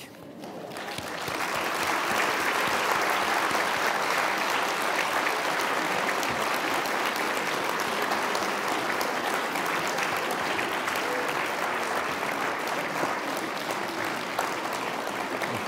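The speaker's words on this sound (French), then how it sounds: "Très applaudi." Sustained audience applause at a lecture hall event, a dense steady wash of many hands clapping that swells in within the first second and holds loud and even throughout.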